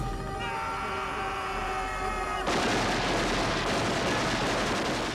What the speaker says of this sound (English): Upon entering, they find one of the drug lords shooting wildly.